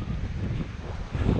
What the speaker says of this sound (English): Wind showing above 30 knots, gusting up to 40.